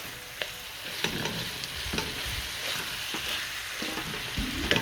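Saltfish and okra sizzle in a frying pan while a utensil stirs with repeated scrapes and light taps against the pan, close and steady, with no talking.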